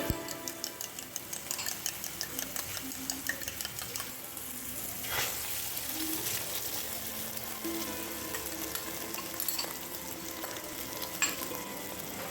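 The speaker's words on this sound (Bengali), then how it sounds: "তেল দেওয়ার পর আমরা দিয়ে দেবো আমাদের ফাটানো ডিমটা" A cracked egg fries in a little oil in a wok, with a bright, dense sizzle and rapid spitting crackles, punctuated by quick ticking taps of a utensil throughout.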